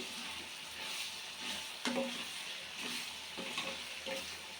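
Chicken liver fries in a pan with a steady broad sizzle, broken by several sharp scraping stirs of the spoon against the pan, close and fairly loud, with no voices.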